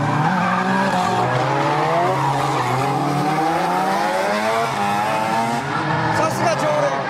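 Cars drift around a racing circuit with long, wavering tire squeals and engine roar, loud and continuous, while voices talk over the noise.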